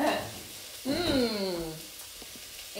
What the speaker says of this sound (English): That means it's ready to saute.